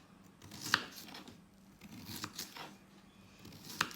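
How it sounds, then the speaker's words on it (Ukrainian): A few sharp knife chops dicing a carrot on a cutting board, sparse and irregular, close up and fairly quiet. "Нарізали ми її кубиками."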